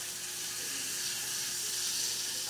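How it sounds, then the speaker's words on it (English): Tequila and butter simmer in a pan as dinner cooks, giving a steady, soft, broadband sizzle that holds evenly throughout with no talk over it. "I'm just gonna turn that down to a simmer"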